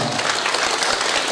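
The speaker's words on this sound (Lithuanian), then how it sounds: "aplodismentai merginoms" A festival audience claps loudly and densely for a group of girl performers, a close, continuous burst of applause throughout.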